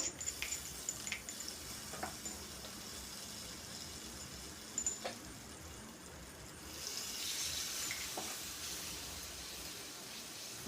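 Crushed ginger and green chilli frying in oil with dried chilli, bay leaf and five-spice, a faint steady sizzle with occasional soft stirring knocks, swelling a little toward the end; no voices.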